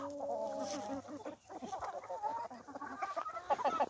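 A flock of Lohmann Brown hens clucks and squawks close by, overlapping calls rising and falling without pause.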